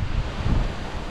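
Steady wind buffets the microphone with a low, rumbling roar, loud and continuous throughout, with no voices.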